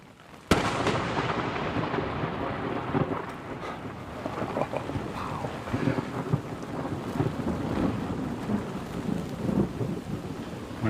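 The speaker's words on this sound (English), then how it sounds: "When thunder roars, go indoors." A thunderstorm over Washington, D.C.: a sudden sharp thunderclap near the start, then a long rumbling roll under steady heavy rain, loud and close throughout.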